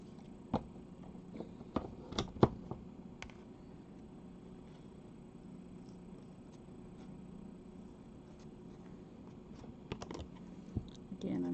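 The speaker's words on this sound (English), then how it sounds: "I'm just using my scissors to help me" Scissors trimming a dress give a few sharp, sparse snips, faint and close, separated by stretches of quiet room tone.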